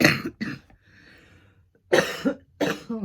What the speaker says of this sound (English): Oh, I'm so sorry I coughed like that.